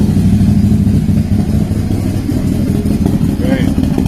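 A Can-Am Maverick Sport XMR side-by-side's engine and exhaust rumble deep and close, idling with uneven throaty pulses and slight revs; a voice speaks briefly over it.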